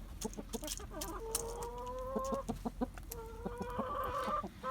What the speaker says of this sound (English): This brown hen here is an absolute classic